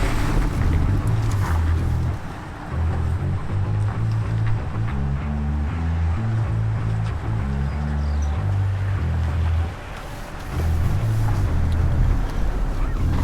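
A Jeep Gladiator Rubicon, shifted into 4 low with a 4-to-1 transfer case, crawls slowly up off-road terrain, its low engine drone rising and falling in uneven surges with brief lulls and some wind noise.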